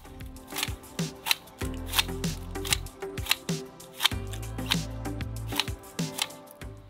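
Garden shears trimming a small-leaved boxwood shrub in a Japanese-style front garden, a series of crisp, close snips in a quick, uneven rhythm, with brief low rustles in between.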